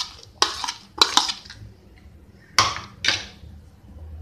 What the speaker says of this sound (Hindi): इसे भी अच्छे से मिक्स कीजिए।